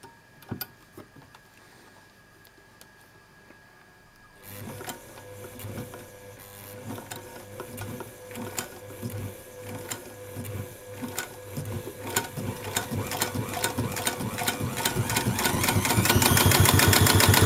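A vintage Singer 66k sewing machine stitches heavy-duty thread, starting quiet with a few isolated clicks, then running with a steady rapid mechanical chatter that speeds up and grows louder to full speed near the end.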